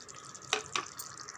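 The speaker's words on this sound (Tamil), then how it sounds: "ஒரு டம்ளர் தண்ணி விட்டு நல்லா கலந்து விடுங்க" Water splashing into a simmering potato and capsicum gravy in a cooking pot, two short bright pours over a soft sizzling background, close by.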